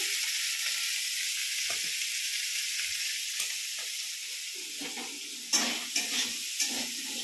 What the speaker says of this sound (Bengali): চিংড়ি ভাজা হচ্ছে এখন।